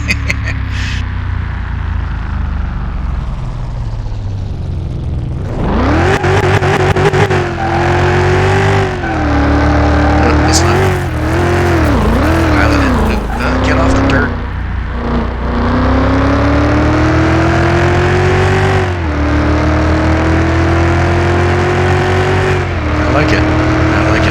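Engine roar of a car driven in Car Mechanic Simulator 2021, revving and shifting in pitch, dipping as it brakes then climbing again, loud and sustained with someone talking over it.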